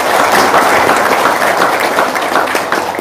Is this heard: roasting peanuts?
no